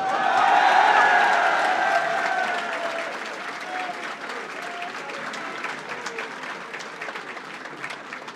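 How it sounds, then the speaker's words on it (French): Audience applause at a political rally for European elections in France, a dense crowd clapping loudly at first and then thinning and fading, with a few voices and cheers mixed into the wash. "vous pouvez les applaudir chaleureusement"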